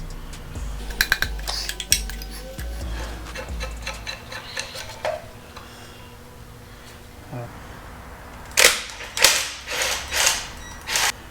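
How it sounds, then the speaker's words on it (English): Fuel incoming line being disconnected on a Jeep Liberty 2.8 CRD diesel engine during a teardown: sparse metallic clicks and clanks close by, then a louder cluster of clattering knocks near the end. "let's go ahead and disconnect the fuel incoming line"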